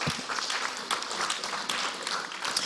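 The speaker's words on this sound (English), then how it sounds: "We want to give them another round of applause, please." An audience at a conference's afternoon plenary session gives steady applause, a dense wash of many hands clapping that is moderately distant and continuous, without talk over it.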